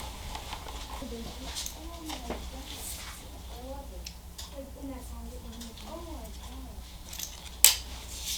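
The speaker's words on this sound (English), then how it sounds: "All you have to do is cut the end off here." Cutters snip the end off an audio wire on a Harley-Davidson custom audio setup, a few faint clicking cuts scattered under someone talking close by, followed by a sharp snap near the end.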